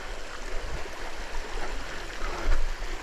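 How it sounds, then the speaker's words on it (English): A creek flowing steadily after a spell of heavy rain, a continuous close rushing and babbling wash of water with no voices. "Even though we've been getting all this rain, the creek's been getting lower."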